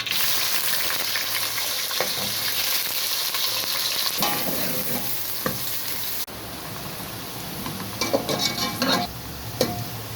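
Onions frying in hot ghee, a steady close sizzle with stirring scrapes and clatters of a spoon against the pan throughout, no talk.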